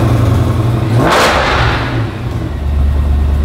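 A Weistec-built Mercedes C63 AMG with a stainless exhaust gives one sharp, loud rev over a heavy idle, flaring briefly and then settling back into a deep, close rumble.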